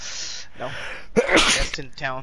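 A single loud, close sneeze bursting out after a short exchange of casual talk, with speech resuming right after.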